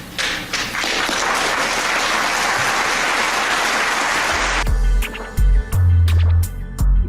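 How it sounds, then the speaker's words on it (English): Dense, loud audience applause rings out after a public apology, sustained for several seconds before cutting off, followed by a few low thumps and handling noises. "then the applause rings out"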